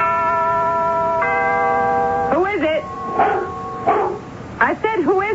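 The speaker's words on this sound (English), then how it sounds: "Have you got a dog with you?" Dog barking and yipping as a sound effect in a radio mystery drama, several short bursts in the second half following a steady organ-like tone.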